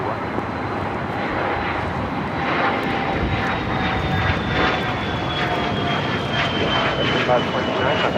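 Jet airliner, an American flight, taking off from runway 25 right at LAX, its engines a loud sustained roar throughout, with voices talking over it.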